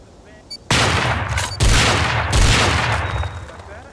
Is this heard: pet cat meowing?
no